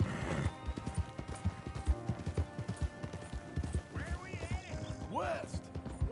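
Horse hooves clip-clop in a steady walking rhythm within the Red Dead Redemption video game, close and fairly loud, with a brief whinny-like sound and some game ambience partway through.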